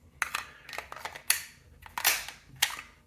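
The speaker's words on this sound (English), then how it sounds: "Hit the mag, it jets out of there." Glock G43 magazines ejected with an NVOKE S15 magazine release, giving a series of sharp close metallic clicks and clacks, some doubled, spaced irregularly across a few seconds with no talking.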